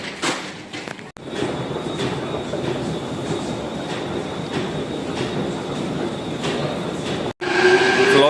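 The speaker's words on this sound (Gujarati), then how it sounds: "Florence metro station" A Prague metro train at Florenc station roars past with a steady, loud rumble of wheels and a thin, sustained squeal, briefly cutting out and returning near the end.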